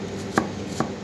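A knife chops white onion thinly on a board: two distinct, crisp chopping strikes about half a second apart, close and clear with no talking.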